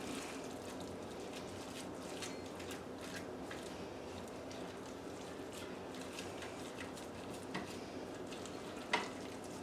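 Bubble and squeak, mostly potato, is mixed together in a pan with soft, continuous scraping and faint sizzling, and a couple of sharper knocks near the end.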